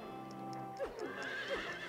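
A horse whinnies twice in quick succession in the video game Silent Hill 3, the calls rising and falling clearly over a low steady game hum.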